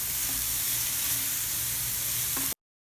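Vegetables for a white kurma sauté in a hot pan, giving a steady close sizzle and frying hiss that runs unbroken for about two and a half seconds before cutting to silence.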